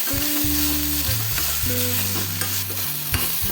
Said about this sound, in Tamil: இப்போ நம்ம கொத்தமல்லி போட்டுட்டு நல்லா மிக்ஸ் பண்ணிவிட்டு